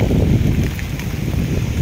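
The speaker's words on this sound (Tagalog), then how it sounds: "Lakas pa rin ng hangin." Strong wind buffets the microphone in a loud, continuous low rumble and roar, with no voices.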